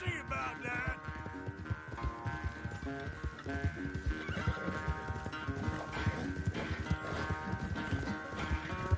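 A horse gallops in Red Dead Redemption 2 during a race, its rapid hoofbeats clip-clopping steadily under game music, with a whinny breaking through; the action is close and fairly loud throughout.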